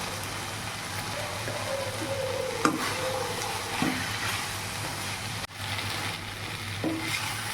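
Meal maker curry fries in a pan with garam masala, a soft continuous sizzle broken by occasional scraping stirs and a few light clanks.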